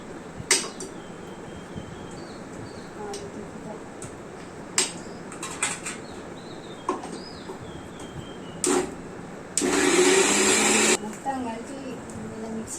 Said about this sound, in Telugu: మిక్సీ వేసి తిప్పాలి